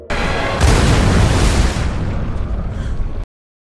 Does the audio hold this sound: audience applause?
no